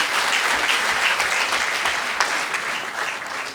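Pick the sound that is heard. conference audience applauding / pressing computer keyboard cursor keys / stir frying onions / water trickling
conference audience applauding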